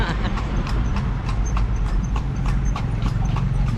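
Hooves of a horse pulling a tartanilla carriage in Cebu clip-clop in a steady, even rhythm, close and loud over a continuous rumble of wheels and road noise, with no talking.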